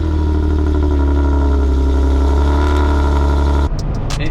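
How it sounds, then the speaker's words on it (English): Nissan 370Z with a new exhaust on a cold start, a loud, steady, rumbling idle held close for most of the clip, then cutting abruptly near the end to a quieter background with a few faint clicks. "I'll get a cold start now for you"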